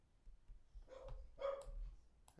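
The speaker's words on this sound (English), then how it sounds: "Now my dog's going crazy." A dog barks a few times indoors, loud and fairly close, in short separated bursts with quiet gaps between them and no one talking.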